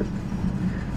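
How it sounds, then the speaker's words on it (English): A train rolls along the tracks close by, a dense low rumble with steady mechanical roar and no voices. "Come on, train. You can do it. You can do it, train."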